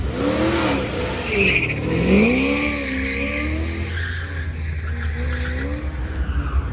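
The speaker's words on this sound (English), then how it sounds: "Here comes Brian in that Fast and Furious Corvette, 1965 vintage" A 1965 Corvette with an old-school small-block V8 tearing around an autocross course: the engine revs rise and fall in sweeping pitches while tires squeal through the turns, loud and close, with no talking.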